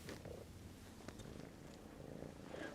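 Soft, rhythmic cat purring up close, a low rumbling drone that swells and eases with each breath, with a few faint rustles.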